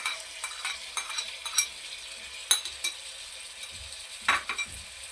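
Chopped tomatoes being stirred into guar beans and potatoes cooking in a pan, a soft close scraping with light sizzling and a few sharp utensil clinks against the pot.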